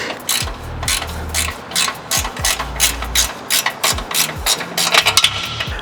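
Ratchet with a 14 mm socket zipping out engine mount bolts while poly mounts are installed, giving close, loud runs of fast clicking that stop and start over and over.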